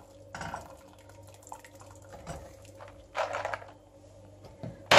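Blanched spinach is dropped into a bowl of ice water, giving a few soft splashes and light drips over a quiet background, with no talking.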